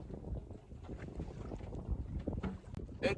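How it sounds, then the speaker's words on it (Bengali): Wind gusts buffet a small fishing boat on rough tidal water in the Sundarbans, a steady low rushing roar with louder surges and a brief rattle near the end, with no voices. "এই তো হাওয়া হচ্ছে"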